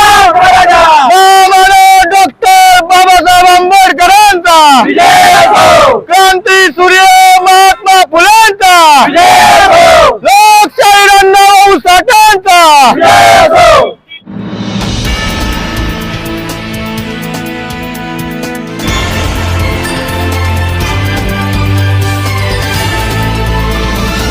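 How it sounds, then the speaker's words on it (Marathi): Large crowd in Kolhar celebrating a victory for Jarange Patil's Maratha demands, shouting loud, rhythmic call-and-response slogans at close range, then shifting into a roaring cheer over band music and drums. "जरांगे पाटील यांच्या मागण्या पूर्ण झाल्यानं कोल्हारमध्ये मोठा जल्लोष"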